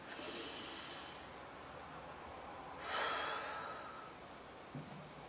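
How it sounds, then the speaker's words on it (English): One deep breath drawn in through the nose during a calm meditation, a single close airy inhale swelling and fading over quiet background hiss, with no talking. "Grab your wrist and take a deep breath in."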